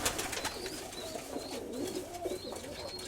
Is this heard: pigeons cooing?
yes